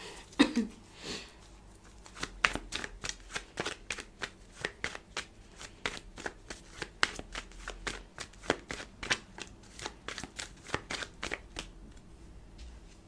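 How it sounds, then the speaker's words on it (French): Tarot cards are shuffled and then laid down one after another in a reading, a brisk run of crisp riffles and slaps close up with a short pause near the start. "je vais mettre toutes les cartes et après je vous en parle"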